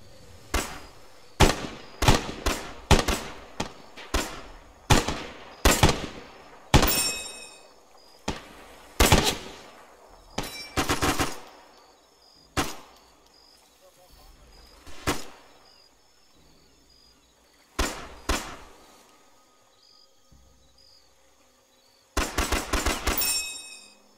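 Gunfire in the Arma 3 video game: repeated sharp cracks in rapid bursts and single shots, loud and close, with pauses between volleys and a final dense burst near the end.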